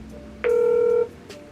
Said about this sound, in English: I just received a phone call from Sean.